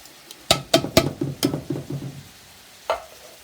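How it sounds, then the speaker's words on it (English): Drained, rinsed canned black beans tipped into a pot of boiling hamburger minestrone and stirred: a few sharp clanks and scrapes of a spoon against the pot with wet plops, then a pause and one last knock. "Let's add our can of black beans that I've drained and rinsed."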